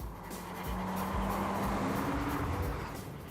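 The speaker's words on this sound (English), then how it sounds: "This is a high-performance Porsche Boxster S" Porsche Boxster S sports car driving past, engine tone swelling and then fading with rising and falling pitch and some tire hiss, fairly near, no voices.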